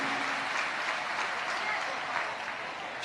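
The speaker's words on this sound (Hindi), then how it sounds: "एक बार जोरदार ताली बजाकर स्वागत वंदन अभिनंदन है।" An audience claps loudly and steadily throughout in a sustained burst of applause welcoming a guest at a Shiv Mahapuran religious discourse gathering.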